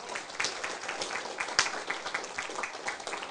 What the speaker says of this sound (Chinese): 咱大家用热烈的掌声